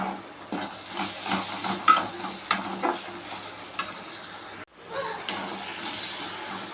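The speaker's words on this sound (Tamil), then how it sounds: "கருவேப்பில் ஒரு சின்ன தக்காளி அதையும் சேர்த்து வதக்கிடுவோம்" Onion, curry leaves and a small tomato sautéing in a pan, with soft sizzling and repeated scraping stir strokes, fairly quiet, with a brief break partway through.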